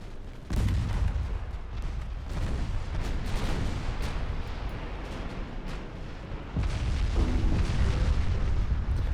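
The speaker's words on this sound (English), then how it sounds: "Secondary guns on my battleships. Engaging the light cruisers." Battleship secondary guns pound away at light cruisers in a 1905-era naval campaign video game, a loud, continuous barrage of overlapping booms and rumbling gunfire that swells louder near the end.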